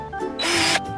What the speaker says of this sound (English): Let's try use a drill.